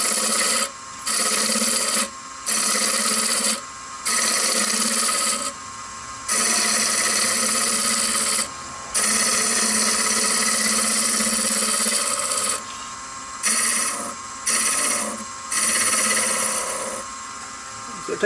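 Wooden hammer handle being offset-turned on a lathe, a loud continuous scraping whir of the cutting tool against spinning wood, broken by repeated short pauses as the tool lifts away.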